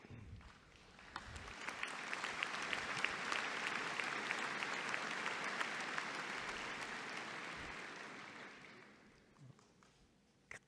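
A large audience applauds at the Clarkson University undergraduate commencement, dense sustained clapping that swells, holds steady for several seconds, then tapers off.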